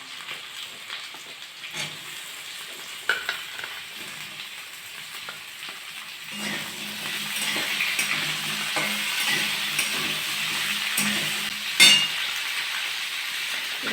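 Potatoes fried until reddish-brown hiss in a pan as beans, carrot, beetroot and drumstick pieces are added and stirred, a steady close sizzle with scraping and a few knocks, growing fuller partway through.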